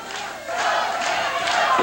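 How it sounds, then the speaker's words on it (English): A wrestling arena crowd yells and roars for a wrestler during a live match, a dense, loud wall of voices that swells in waves throughout. "The crowd begins to yell for Kevin Von Erich."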